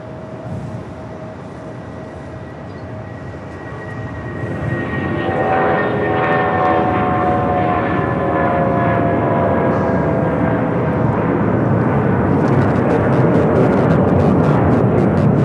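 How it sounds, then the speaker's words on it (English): A Boeing 757-200 departs LAX for Newark, the engine roar swelling after a few seconds into a loud, sustained rumble with a whining tone on top, near and continuous with no voices. "Airlines 1164 taking off to Newark on the 757-200"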